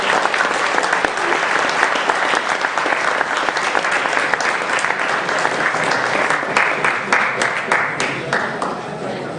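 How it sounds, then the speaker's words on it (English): A crowd at a robot competition gives steady, dense applause for the robot Gunmetal. The clapping is loud and sustained, with faint voices mixed in, and it thins slightly near the end. "Let's give Gunmetal a nice round of applause."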